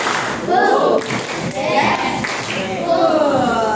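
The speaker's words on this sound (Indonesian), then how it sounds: "Tepuk 1. Tepuk 2. Tepuk 3." Several bursts of a classroom of children clapping hands in quick rhythmic patterns, loud and close, with children's voices mixed in.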